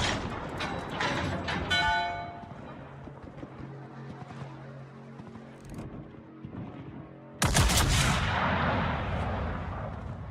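Naval ship guns fire in World of Warships, heavy booming salvos up front, then a quieter rumbling stretch before a loud, sudden blast that rolls on to the end, with no talking.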